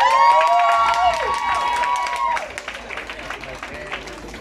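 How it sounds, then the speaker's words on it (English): An audience at a college year end function claps and cheers with shrill whoops and whistles early on, then settles into scattered lighter applause over a general crowd murmur. "This next round of applause, ladies and gentlemen, goes to Pelogazi Nomvalo."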